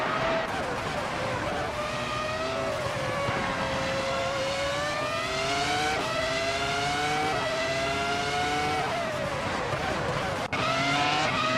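The 2019 Formula Rapide race car from a racing video game, its engine a continuous loud whine rising and falling in pitch through the gears, with a brief sharp click near the end.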